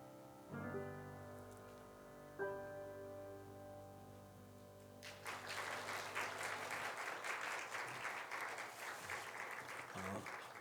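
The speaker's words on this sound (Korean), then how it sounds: "선물을 전달할 때 우리 따뜻한 박수로 격려와 축복을 해주시기 바랍니다" Sustained keyboard or organ chords ring in a church Sunday service, then the congregation breaks into warm, steady applause for a gift presentation that continues to the end at moderate loudness.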